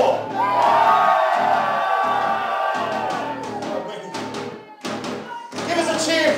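A concert crowd cheering and whooping at a gig at the Red Lion pub in Gravesend, a loud sustained roar of voices and shouts that dips briefly, then swells again with scattered claps and yells.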